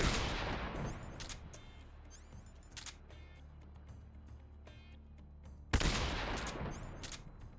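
Gunfire during the Ocelot boss fight in Metal Gear Solid, a heavy blast at the start and another near the end with scattered sharp single shots between, over a steady low background hum.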